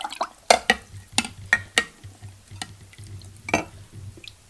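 A utensil stirs kombucha in a glass jar before bottling, giving a series of sharp clinks and taps against the glass over low liquid swishing, close up with no voices.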